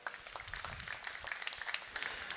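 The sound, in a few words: audience applause at futsal draw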